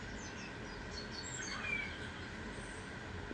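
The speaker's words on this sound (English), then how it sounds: "I don't think you're going to be able to hear what I'm saying with all the birds chirping." Small birds chirp and tweet in high, scattered calls throughout, fairly faint over a steady low rumbling background, with no talking.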